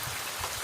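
Heavy rain falls in Dubai, a dense, steady hiss of drops striking surfaces, loud and close, with no voices over it.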